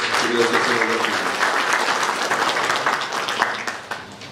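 Delegates at a Liberal Party congress break into dense applause in a large hall. A voice carries over the first moments, then sharp, crackling clapping continues alone, thinning slightly toward the end.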